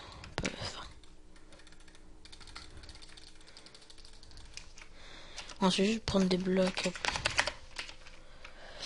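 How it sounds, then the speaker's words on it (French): Light clicking of computer keys runs through the clip under a man's French speech, with a louder burst of faster typing near the end. "Je sais pas si vous entendez beaucoup mon clavier."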